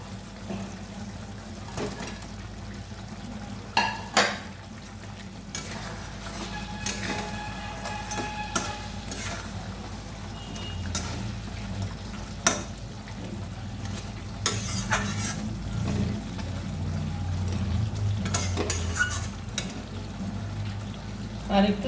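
Katla fish poured into smooth poppy seed paste in a pan and stirred, with a steady soft sizzle under repeated scraping and clinking of a spatula, several sharper knocks standing out.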